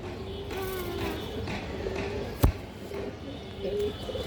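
Ring-eyed pigeons give soft, repeated low coos at a steady rhythm close by, with a sharp knock midway and faint handling noise around them.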